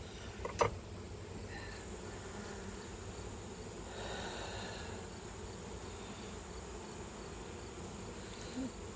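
Honey bees swarm around an open beehive during hive work, making a low, continuous droning buzz that stays fairly faint and even, with a brief knock near the start and no speech.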